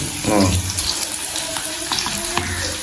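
Okra is rinsed under a running kitchen tap, water splashing steadily into a sink with brief clatters of vegetables and faint speech in the background.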